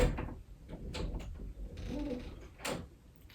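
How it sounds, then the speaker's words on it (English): A door is pushed shut in a room with a few bumps and a closing thud near the end, amid scattered household knocks and movement. "Close that door all the way."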